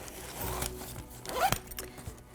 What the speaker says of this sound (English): in the front, zip it up